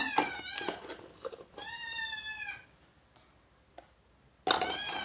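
A hungry kitten meows repeatedly in a home kitchen where cauliflower chilli is being cooked, with several high, harmonic cries close to the mic, the longest drawn out, separated by quiet gaps.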